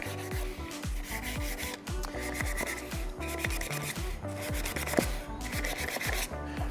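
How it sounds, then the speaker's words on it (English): Wooden edges freshly cut with a router are hand sanded, with rapid, even back-and-forth rasping strokes repeating close up and continuously, with no talk. "Now I'm gonna just lightly sand everywhere that I routed."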